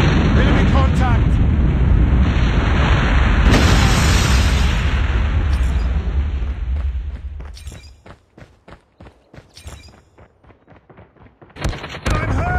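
A massive friendly nuke detonates in Call of Duty Mobile during a Hardpoint match, a loud sustained roaring blast rumbling for several seconds before fading into scattered sharp gunfire pops and short bursts.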